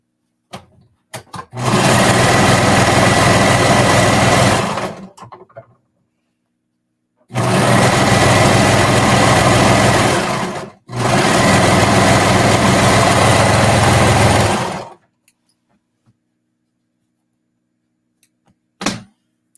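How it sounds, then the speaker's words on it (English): A sewing machine stitching sports bra lining runs in three loud, steady bursts of a few seconds each, separated by pauses with small handling clicks, close and alone. "just sewing down to the other corner here"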